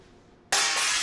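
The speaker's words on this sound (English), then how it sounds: "Commence the glass breaking test." Glass breaks during a glass breaking test: after a quiet lead-in comes a sudden loud crash, then a dense, sustained hiss of shattering glass that continues to the end.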